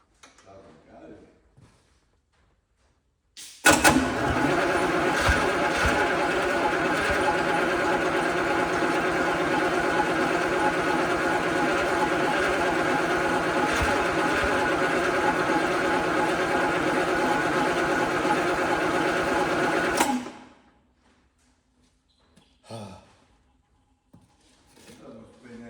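A 24-volt starter cranks a junkyard Detroit Diesel 6-71N without it firing, a loud, steady mechanical whirring lasting about sixteen seconds. Quiet stretches before and after hold a few faint knocks.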